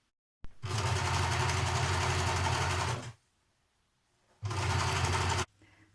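A sewing machine stitches skirt edgings in two bursts, a long run of about two and a half seconds, then a brief pause and a shorter run, each a steady, close, whirring hum.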